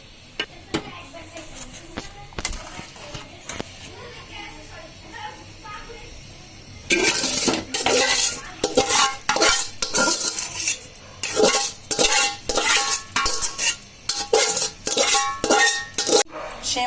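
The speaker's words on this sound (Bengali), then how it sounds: "এবার এই সেমাইগুলোকে আমি দুধের মধ্যে দিয়ে দিব, দিয়ে নাড়াচাড়া করব" Vermicelli (semai) being stirred into milk in a metal pot: quiet at first, then loud, rhythmic scraping and clanking of a spoon against the pot that continues to the end.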